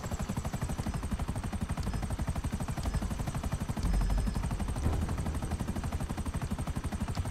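Helicopter rotor in GTA Online, a steady rapid thumping chop that runs throughout at a constant loud level, with a deeper rumble swelling briefly midway.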